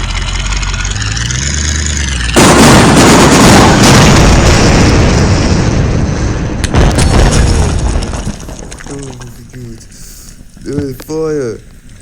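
A loud explosion in the video game Teardown bursts in and roars on for several seconds with a heavy low rumble, then tails off into crackling debris while people talk and exclaim over it.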